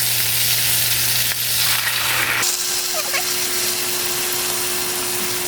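Spaghetti sauce in a pan gives a loud, steady sizzle with a constant hum running beneath it, and faint stirring scrapes come through near the end.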